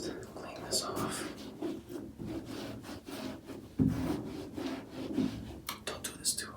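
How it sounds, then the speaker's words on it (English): A cloth rubs and wipes a leather shoe clean of old beeswax, giving close, soft, continuous scrubbing and brushing strokes with a light bump midway, under quiet whispered speech. "So let's just clean this off."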